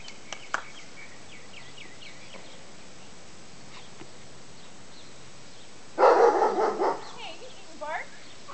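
Golden retriever puppies yip and bark in short, high bursts, with a louder cluster of barks late on and a few quieter yelps, while a person calls out to them.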